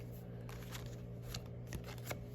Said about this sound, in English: I'm going to shuffle these cards because I really just want one card